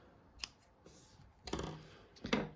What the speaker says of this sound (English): then you're going to fasten off, trim your end